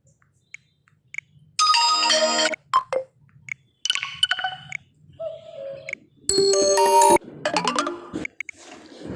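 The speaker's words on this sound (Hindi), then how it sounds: "कोई मैसेज आता है या आपके पास से कोई मैसेज जाता है तो एक टोन बजता है।" A series of WhatsApp message notification tones play on a smartphone, short bright electronic chimes and blips in separate bursts with quiet gaps between them, close and clear with no talking.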